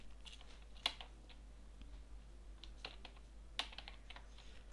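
A few keystrokes on a computer keyboard while entering text in a drafting program, sparse clicks with two sharper taps standing out against a quiet room.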